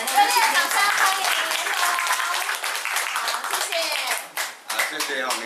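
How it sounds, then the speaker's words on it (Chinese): A crowd applauds at the opening of a coffee roastery, with dense clapping that thins out toward the end and voices speaking over it. "热烈掌声欢迎"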